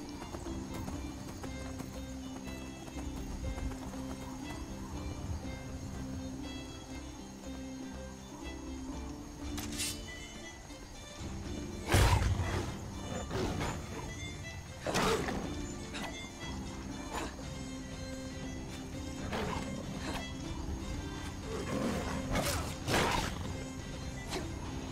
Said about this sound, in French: Combat en cheval.